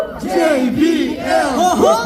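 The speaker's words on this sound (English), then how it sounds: "everyone cheer for them in the front" A concert crowd at JBL Soundfest 2024 chants and cheers loudly in unison, rhythmic rising shouts sounding close and full.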